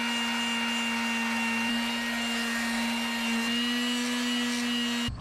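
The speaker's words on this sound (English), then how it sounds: "I'm about to give this a light sand in with the sander and smooth it all out" An electric sander works lightly over filled holes on a catamaran hull, a continuous close buzzing hum with a steady low drone and faint scraping, uninterrupted until it cuts off at the end.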